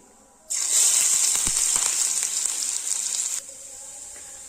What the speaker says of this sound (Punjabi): ਤੇਲ ਚੰਗੀ ਤਰ੍ਹਾਂ ਗਰਮ ਹੋ ਗਿਆ ਹੈ ਤੇ ਹੁਣ ਅਸੀਂ ਇਸ ਵਿੱਚ ਪਾਵਾਂਗੇ ਜੀਰਾ ਨਾਲ ਹੀ ਇਸ ਵਿੱਚ ਐਡ ਕਰਾਂਗੇ ਅਦਰਕ ਲਸਣ